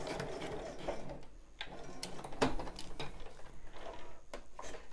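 Sewing machine running a few long straight stitches to hold elastic on a bra, a quiet continuous mechanical whirr with faint clicks, close and without talk.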